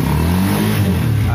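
A motorcycle engine with a freshly tuned carburetor revs loud and close, a rough, continuous mid-pitched roar that holds steady throughout the short burst.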